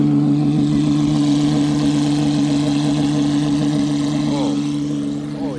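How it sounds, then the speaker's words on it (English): Gordon Murray XP1 three-seat prototype car idles at a show booth after startup, a loud steady low engine drone with a slight rise near the end. "Here at the Gordon Murray booth, you hear a startup of the XP1 prototype, the 3-seater."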